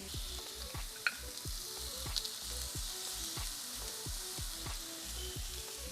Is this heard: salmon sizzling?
yes